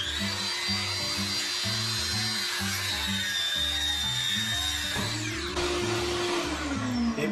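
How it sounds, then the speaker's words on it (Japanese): A power saw cuts wooden flooring boards at a carpentry floor-laying job, making a sustained high whine that stays loud for about five seconds before winding down, with rhythmic background music underneath. "床材、このフロアを切っていきます"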